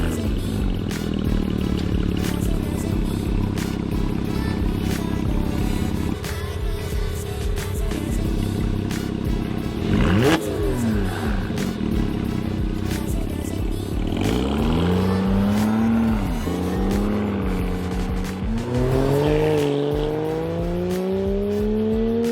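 Porsche Cayman 987 engine heard from close by, a raspy mid-engine note holding steady then revving and climbing in repeated sweeps with gear changes, loud and continuous.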